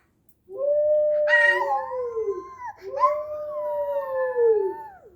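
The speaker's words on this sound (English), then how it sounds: "That was a wolf." A wolf howl played by an Alexa zookeeper skill, two long, clear, falling howls one after the other, loud and close, with a faint yip between them.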